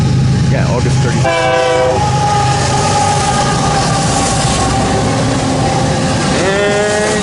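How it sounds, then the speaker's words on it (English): An eastbound BNSF loaded coal drag with a KCS locomotive in the second slot rolls past near Ashland, Nebraska, a loud close rumble of wagons broken by two sustained horn blasts at the start and the end. "BNSF Heartland Division, eastbound coal drag, KCS in the second slot"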